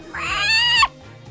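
A house cat lets out one long, loud, drawn-out meow close by, ending sharply, with a faint low hum underneath.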